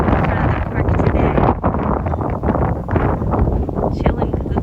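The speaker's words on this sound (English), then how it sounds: "It's cloudy, it's windy." Strong wind buffets the microphone outdoors at Badlands National Park, South Dakota, a loud continuous rumbling roar with gusty surges throughout and no clear speech.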